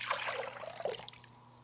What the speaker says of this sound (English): we're going to take the coconut and empty it.